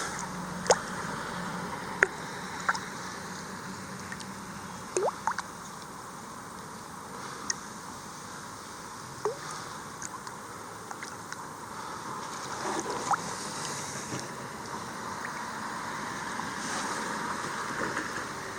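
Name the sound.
washing a dug-up spoon off in water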